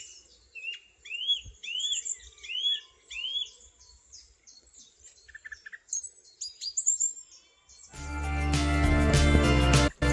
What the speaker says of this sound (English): leaving me to my own personal serenade from a song thrush, chiff-chaff and robin.